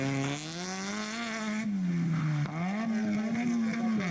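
A turbocharged drift car held on throttle and kept in boost screams loudly and steadily, its engine pitch rising and dipping in quick waves with a brief drop midway.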